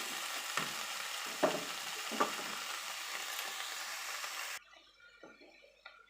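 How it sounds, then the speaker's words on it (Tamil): Arai keerai greens fry in a pan with a steady, close sizzle, broken by scraping stirs of the spoon before the hiss drops away sharply near the end. "கீரையை கைவிடாமல் வந்து கிளறிக்கிட்டே இருங்க"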